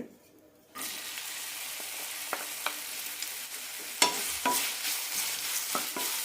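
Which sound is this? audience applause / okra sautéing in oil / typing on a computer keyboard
okra sautéing in oil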